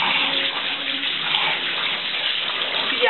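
Tap water runs in a steady, loud gush during washing, filling the whole moment without a break and with no voices over it.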